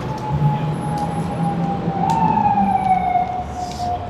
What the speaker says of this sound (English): So my sister, Alexandra, she loved the sirens, police or fire departments.